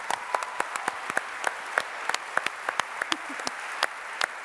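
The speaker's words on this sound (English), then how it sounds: "please, a huge round of applause, David Nicholls again" Scattered clapping from the audience at a book event with author David Nicholls, sharp individual claps at an uneven rhythm over a low room murmur, thinner than a full ovation.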